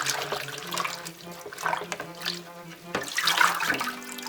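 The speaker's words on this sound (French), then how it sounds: "Je plonge mes endives dans l'eau avec le vinaigre." Endives plunged and swished in a basin of water with vinegar, making sloshing, splashing, and gurgling water sounds close by, with a voice talking over them.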